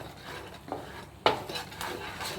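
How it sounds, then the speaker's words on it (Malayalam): A spoon stirs a sesame seed and sugar mixture in a pot for sesame balls, giving a few scraping clinks and one sharper knock of metal on the pot, close up with no talking. "നല്ലവണ്ണം ഒന്ന് ഇളക്കി ചേർക്കുക"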